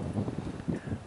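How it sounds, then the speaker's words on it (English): Gusty wind blows across a desert hiking trail near Saguaro Lake, buffeting the microphone in low, uneven rumbling puffs for about a second, with no talking. "it's real windy right here."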